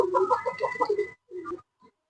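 Pigeons in a breeder setup cooing nearby, a throaty rolling coo followed by two shorter softer coos with pauses between, no talk.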